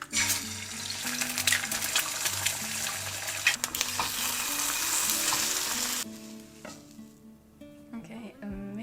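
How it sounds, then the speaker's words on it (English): Eggs frying in a pan make a loud, steady broadband sizzle for about six seconds, with background music underneath; the sizzle then drops away to quieter clatter. "I've just decided to make 2 more eggs."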